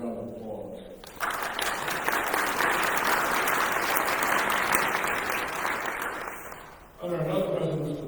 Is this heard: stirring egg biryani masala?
no